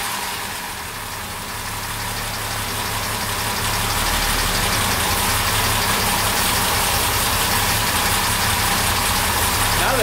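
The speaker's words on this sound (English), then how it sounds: "I'm gonna just rev it up." Car engine fitted with SU carburettors, steady and loud throughout, its revs climbing slightly over the first few seconds and then holding high with a continuous low hum; no talk.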